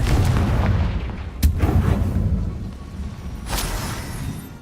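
Confringo explosive spell blasts in the Hogwarts Legacy video game: loud booming impacts with a sharp crack near the middle and another burst toward the end, over a continuous rumbling background.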